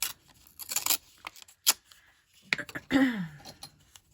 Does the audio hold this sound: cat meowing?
no